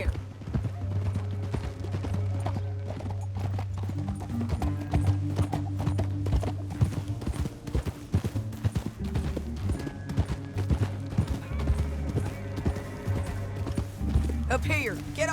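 Horse hooves gallop in Red Dead Redemption 2, a steady rapid clip-clop running throughout over a low musical drone, with a horse whinny and voices talking in places.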